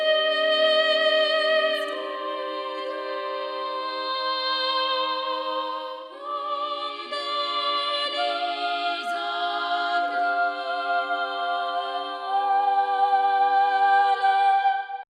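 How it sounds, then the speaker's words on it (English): A vocal VST syllables engine sings polyphonic choir syllables in sustained, layered chords that shift harmony every few seconds, a full, close choral texture heard alone without talk. "We got a brand new syllables engine for polyphonic syllables that have presets for"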